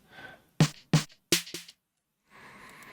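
Four snappy electronic 808-style trap snare hits made in Serum, two evenly spaced then two in quicker succession, dry and punchy, with a faint tonal pad before and after.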